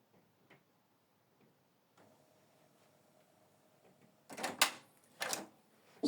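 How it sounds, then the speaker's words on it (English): The ink access door of a Canon MG3650 printer is opened: faint small clicks first, then two loud, sharp plastic clacks close together near the end, heard alone without talk. "open up the ink access door"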